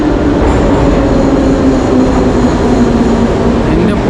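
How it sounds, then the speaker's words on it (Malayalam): An old metro train pulls into a station in Tashkent, a steady loud rumble with a sustained low hum running unbroken throughout, close and continuous. "മെട്രോ എത്തി ഗൈസ്, മെട്രോ എത്തി"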